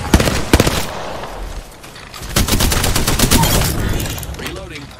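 Rapid automatic gunfire in Apex Legends, loud, close bursts of fast shots in two volleys separated by a short lull, with game effects and a voice talking.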